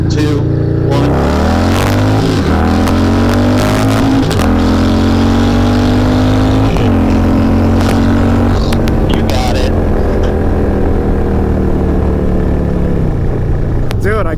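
Harley-Davidson Softail Low Rider S with a 131 engine accelerating hard, its loud, close exhaust climbing in pitch through the gears and repeatedly stalling against the rev limiter in a continuous roar.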